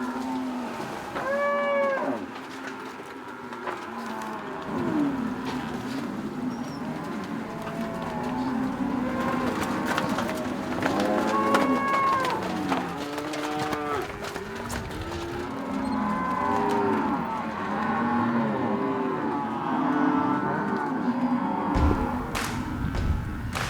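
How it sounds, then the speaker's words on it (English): A herd of cattle being rounded up by Argentine gauchos low and moo repeatedly at varying distances, overlapping calls over a steady outdoor rumble with hoof clatter and occasional bird calls. "Towards the end of the day, the cattle are being rounded up again to head into the pastures."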